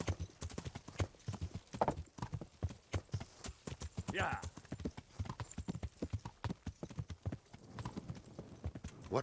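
Rhythmic clip-clop of horse hooves trotting steadily in the video game Kingdom Come: Deliverance, with a brief whinny midway and quiet talk over the top.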